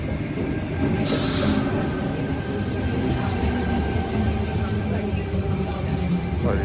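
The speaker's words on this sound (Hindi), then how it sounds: "run by the double decker train" A double-decker Sydney train runs past at a station, a loud continuous rumble with squealing wheels and a high metallic whine, while background voices carry over it.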